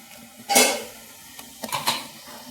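Metal lid lifted off a cooking pot of simmering chickpea masala gravy: a bright clanking scrape, then a few lighter metallic taps and clinks, close and brief.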